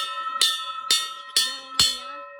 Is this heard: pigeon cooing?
no